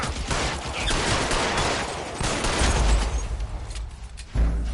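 Dense gunfire in the game L.A. Noire rattles almost continuously, with rapid overlapping shots and a few heavier booms in a loud, sustained exchange.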